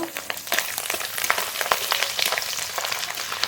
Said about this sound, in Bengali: নারকেল কুচি নারকেলটা একটু ভাজা ভাজা করে নেব